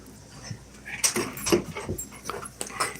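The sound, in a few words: puppies whimpering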